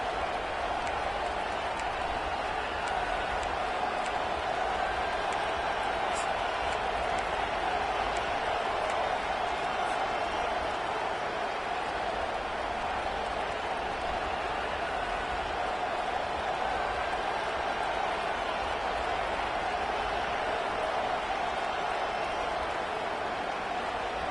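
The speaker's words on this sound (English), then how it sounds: "The roar of the crowd trying to fuel this defense to keep them pinned in their own end." Football stadium crowd at an Auburn game roaring steadily as it urges the defense on, a broad continuous wash of massed voices holding at an even level throughout.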